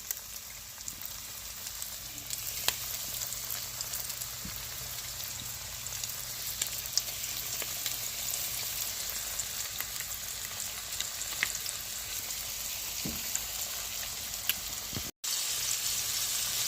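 Fish fillets fry in oil in a pan on an ice fishing outing, a steady close sizzle and crackle running throughout with occasional pops and a brief cut near the end.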